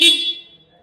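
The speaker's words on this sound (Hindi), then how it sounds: "सिंगल बजर सेम हॉर्न है वही वाला।" The horn of a Yamaha XSR 155 motorcycle, a single buzzer type, gives one short, bright, close beep that fades out quickly, with no talk.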